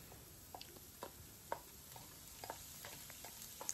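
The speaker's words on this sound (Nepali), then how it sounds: "थोरै ओइल राखेर अघि काटेको भेजिटेबललाई फ्राई गरिदिने" Chopped vegetables frying in a little oil for noodles, a quiet steady sizzle broken by faint intermittent stirring scrapes and taps, no voices.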